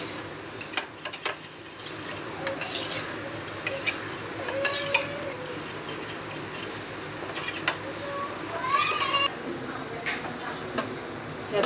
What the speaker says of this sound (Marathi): हे चांगले मिक्स करायचं।